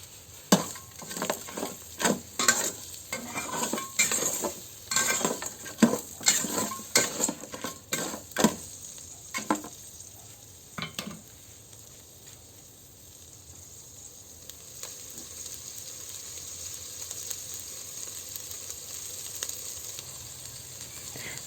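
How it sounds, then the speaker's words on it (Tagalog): Boiled, split crab pieces sautéed in a pan, with a busy sizzle broken by sharp scraping and clattering stirs that fade into a steadier, quieter frying hiss. "Gisayin lang natin yan guys ng 2 minuto."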